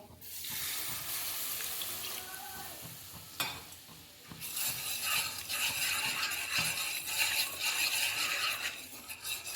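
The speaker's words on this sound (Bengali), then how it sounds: "অল্প অল্প করে আমি দুধটাকে ভালো করে এর সঙ্গে মিশিয়ে নেব" Milk being stirred into a white sauce for pasta in a pan, a continuous soft sizzling and watery swirl with a brief scrape partway through, building slightly louder toward the end.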